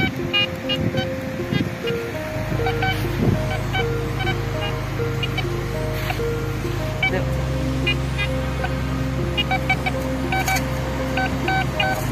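An S10 Pro metal detector swept over a target on a sandy beach at Port Dickson sounds steady electronic tones that shift in pitch, with surf washing in the background.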